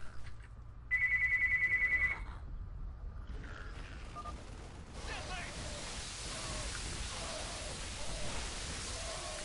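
A phone rings in a repeating electronic trill for about a second during StarCraft 2 gameplay. It stops, then a steady hiss like rain takes over, with talking in the background.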